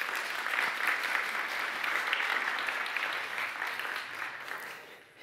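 An audience applauds a student at a teacher-versus-chatbot prompting challenge event, a dense, steady wash of clapping that holds evenly, then tapers off at the very end.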